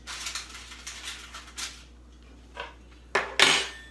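Mini chicken-and-vegetable somsa pastries are set onto a metal baking tray with a fork, giving a run of light clinks and taps followed by a sharper, louder metallic clatter near the end.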